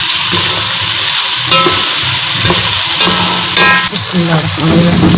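Tomatoes and green chilies fry in a pan with a dense, continuous sizzle, broken by clinks and scrapes of stirring throughout.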